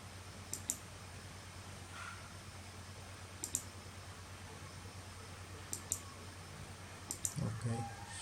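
Computer mouse clicking while wiring a circuit in Proteus software, heard as a handful of faint, crisp single clicks spaced a second or more apart over a low steady hum.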